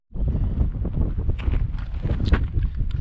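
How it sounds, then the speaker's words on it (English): Strong wind on a ridge along the Colorado Trail buffets the microphone in loud, rough gusts, a constant roaring rumble with occasional rustling bursts. "It's super windy right now."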